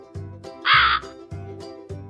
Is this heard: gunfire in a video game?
no